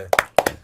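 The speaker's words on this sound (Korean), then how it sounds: "큰 박수" A few people in a studio clap their hands, three quick pairs of sharp, close claps in a short, loose rhythm.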